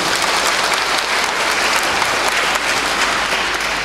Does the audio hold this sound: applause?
yes